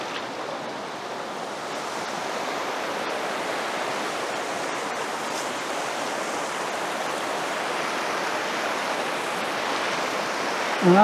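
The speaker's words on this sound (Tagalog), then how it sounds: "Ang ganda ng agos, eh." A clear mountain river rushes steadily past, a broad, continuous roar of flowing current that stays loud and close throughout, with a brief sharper sound at the very end.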